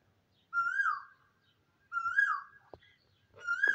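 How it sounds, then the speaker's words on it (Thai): A bird calls outdoors near a garden of Thai ornamental trees, giving three bright, clear whistling phrases. They come at a steady interval, with a short sharp click between the second and third, and no one speaks. "ขณะที่เราถ่ายคลิปก็มีเสียงนกกระว่าวร้องด้วยนะคะได้ยินไหมคะเสียงสดใสมากๆค่ะ"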